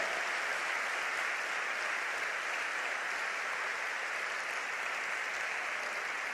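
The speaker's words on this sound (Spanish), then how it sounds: "Ahora sí le damos un gran aplauso, dándole la gloria." A church congregation claps in a steady, dense round of applause that holds at an even level throughout, with no clear voices above it.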